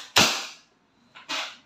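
A silver Wingun 708 CO2 airsoft revolver fires two sharp, loud cracks about a second apart, each with a brief decaying tail, with no talking.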